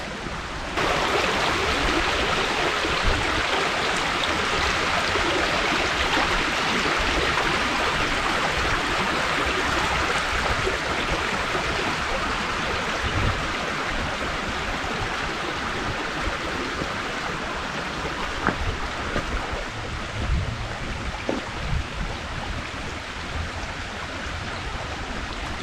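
Water from a stream rushes steadily over rocks on a hiking trail, a dense, continuous broadband roar heard close and loud throughout with no talk.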